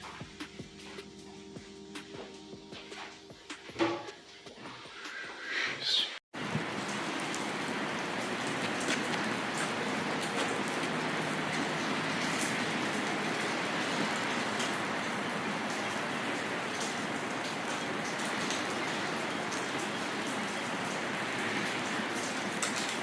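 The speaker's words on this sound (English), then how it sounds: "The raindrops drop into the opaque black concrete." Steady rain pours onto concrete at night, a dense, continuous hiss of drops close by, preceded by a few seconds of quieter, patchier sounds before an abrupt cut into the full downpour.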